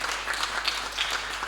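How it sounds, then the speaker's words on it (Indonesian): An audience at a stand-up comedy show claps for comedian Zikri in a short, steady burst of applause with no voices over it. "Boleh tepuk tangan sih buat Zikri."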